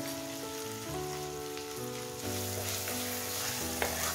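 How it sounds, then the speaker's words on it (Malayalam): Sliced onions sautéing with a pinch of salt in a pan as the base for a squid stir fry, a soft continuous sizzle running beneath steady background music. "ഇതൊരു ചെറിയ ബ്രൗൺ കളറാവുന്നത് വരെ നമുക്കിതിനെ സോർട്ട് ചെയ്യാം"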